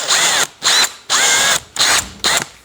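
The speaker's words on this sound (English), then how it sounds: "So I'm going to drill this through now, see what happens" A power drill boring through a part during a Kinesis titanium bike build, with five loud, close bursts of whining drilling separated by brief pauses.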